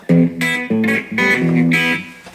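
A few notes and chords on a Fender Telecaster electric guitar, played clean with a wash of reverb letting each ring out and blend, close and fairly loud.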